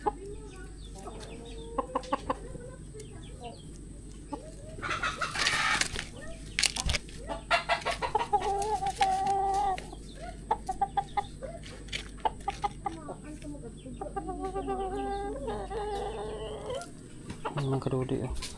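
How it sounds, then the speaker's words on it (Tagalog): Chickens cluck and chatter nearby outdoors, with repeated short calls and a few louder squawks, while people talk intermittently in the background. "Kukulit na mga chicken natin."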